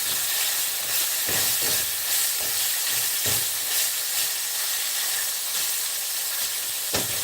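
Ground beef cooks in a pan with a continuous close hiss and sizzle, broken by a few sharp scrapes and knocks through the steady frying noise.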